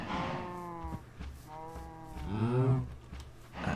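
A cow moos several times in the Minecraft modpack Project Ozone Lite, a series of drawn-out lowing calls, the last one longest and loudest, close and clear with no speech.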